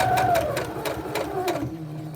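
A sewing machine stitching through a face mask strap, its rapid even needle clatter close and loud for nearly two seconds before it slows and stops.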